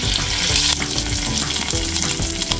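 Ginger garlic paste and cumin seeds fry in hot oil in a kadai, giving a loud, close, crackling sizzle with stirring scrapes breaking through the steady hiss.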